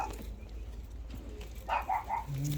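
Imported pigeons or doves coo softly inside a delivery box, a few low burbling calls near the end over quiet background rumble.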